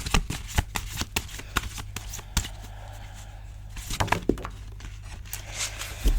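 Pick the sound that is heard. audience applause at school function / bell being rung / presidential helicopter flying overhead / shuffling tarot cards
shuffling tarot cards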